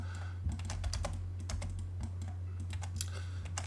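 Typing on a computer keyboard to enter a value and press Enter, a quick run of crisp close key clicks in an irregular rhythm over a low steady hum, no talk.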